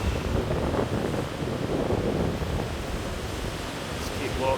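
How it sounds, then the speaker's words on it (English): Strong wind buffets the microphone outdoors in rainy, cold Bath, a loud continuous rushing roar with no break, steady throughout. "Very, very windy here in Bath."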